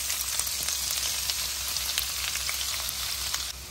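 Curry leaves and onion pieces fry in hot oil in a pan for chole, giving a steady, close, dense sizzle with scattered crackles and pops throughout, no voices.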